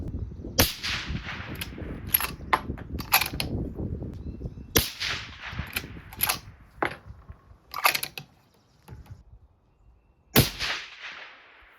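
A 6.5 Creedmoor rifle fires at a 200-yard range, producing a series of sharp, loud cracks at irregular intervals, each with a short decay, over faint handling noise.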